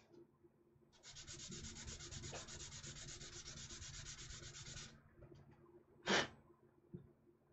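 Sanding block rubbing back and forth on a plastic model kit part at close range, a steady rasping scrub lasting about four seconds, then a short sharp noise near the end in an otherwise quiet room.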